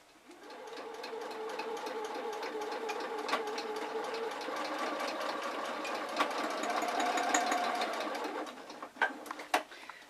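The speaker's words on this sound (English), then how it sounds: "So the first thing to do is to sew this into a tube" A sewing machine stitches stiff interfaced fabric into a tube for a trick-or-treat bucket, running steadily and close with a whirring hum for about eight seconds before slowing to a few separate clunks.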